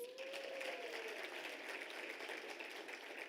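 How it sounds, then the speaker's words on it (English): Faint, steady applause from a university graduation ceremony crowd, a soft even patter of many hands clapping that continues for a few seconds without any voices. "I think we also deserve a round of applause."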